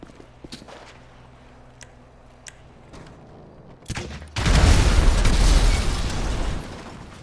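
Grenade explosions in the video game GTA 5 Online: scattered sharp pops and thuds first, then a heavy loud blast with a sustained rumbling roar of explosions.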